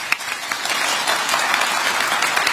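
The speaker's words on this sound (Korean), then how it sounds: "오늘 이 자리에 우리 최태원 회장님을 비롯한 대한상의의 모든 구성원 여러분께 감사의 박수를 청합니다." Audience applause of thanks at a government policy briefing in Seoul, a steady dense wash of many hands clapping at moderate loudness, with no voices over it.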